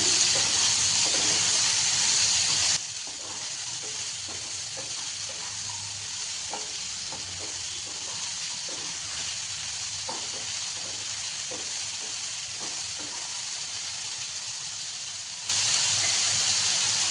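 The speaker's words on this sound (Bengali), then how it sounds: "আলুটা লাল লাল করে একটু ভেজে নিলাম এবার ওর মধ্যে দিয়ে দিচ্ছি চিচিঙ্গাটা একসঙ্গে এবার ভেজে নেবো" Potato and snake gourd fry together in a pan for a poppy-seed dish, a constant hissing sizzle with rhythmic spatula stirs, louder at the start and end.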